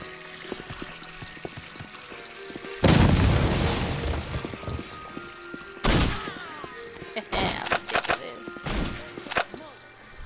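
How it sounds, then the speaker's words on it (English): Grenade blasts in the PC shooter Postal 2, one big booming explosion followed by several shorter bangs and gunfire-like bursts, loud and close, with a voice reacting between them. "Holy crap, he has grenades!"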